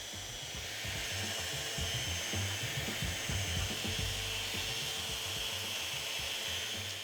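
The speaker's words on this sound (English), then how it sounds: "I'm going to be sanding in Rotex mode." A sander running in Rotex mode with 120 grit on plywood, a steady low whirring drone with faint rumbling texture, moderately distant and continuous, alone without talk.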